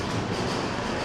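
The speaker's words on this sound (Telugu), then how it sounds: "పక్కన అయితే ఇంకో ట్రైన్ అయితే వెళ్తుంది." An express train passing on the next track at Bangarpet junction in India: a dense, steady rumble of wheels and carriages, loud and close throughout, with no talking.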